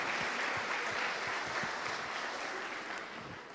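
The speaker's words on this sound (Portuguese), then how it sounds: "Vamos aplaudir o Senhor por essas mulheres, querido." A church congregation applauds steadily together, a dense sustained clapping that fills the space without a break and eases off slightly near the end.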